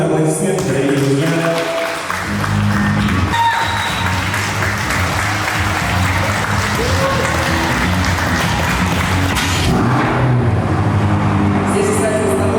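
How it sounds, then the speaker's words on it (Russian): Audience clapping at a big outdoor car picnic featuring a BMW E34 525i, a broad steady wash of applause running the full length under voices, tonal hum and scattered background noise. "Под ваши бурные аплодисменты, дорогие друзья"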